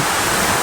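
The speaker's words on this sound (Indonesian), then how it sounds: "Grojokannya ini cukup deras sehingga memercik ke muka saya dan tidak sampai basah sih" A strong waterfall in the rainy season, with wind blowing its spray about, gives a steady, dense rush of falling water close by that fills the whole short stretch without a break.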